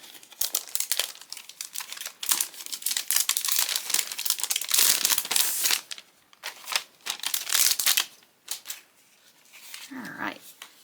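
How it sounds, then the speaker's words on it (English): Plastic wrap being peeled and crinkled off a craft advent calendar box, loud close rustling and crackling in bursts with short pauses, while someone talks over it. "I'm going to take it out of the plastic wrap so you can see that better."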